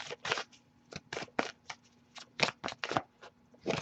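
Cards are shuffled in quick, crisp riffling bursts with brief pauses between, close and clear, no talking.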